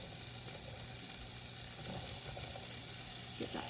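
Peas sizzling in a hot frying pan, a steady close hiss of frying with occasional stirring clinks, no voices.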